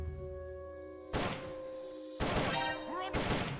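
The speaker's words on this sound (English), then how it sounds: "You hear that? Gunshots!" Three loud, abrupt gunshot bursts ring out in a Metal Gear Solid: Peace Walker game scene after a quiet stretch, each followed by a brief echoing tail.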